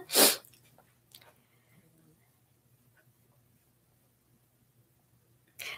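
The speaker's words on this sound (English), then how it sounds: "I just sneezed it out of control." One sharp, close sneeze bursts out at the start, then near silence with a faint sniff and another brief breathy sound at the end.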